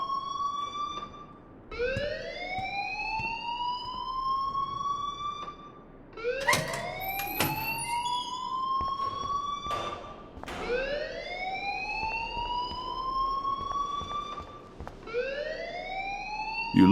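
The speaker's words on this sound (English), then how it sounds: "please turn off that alarm since that's your job" Fire alarm in the video game Life is Strange wails in repeated rising sweeps, each climbing pitch and repeating about every four seconds, loud and continuous with faint background noise and no talk.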